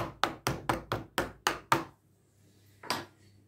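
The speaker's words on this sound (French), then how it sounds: "Je prends une petite fourchette et je pique ma pâte." Pastry dough for a sugar tart, made from a yeasted dough, is pricked with a small fork in a quick series of seven close, crisp taps. A short pause follows, then one more tap sounds alone.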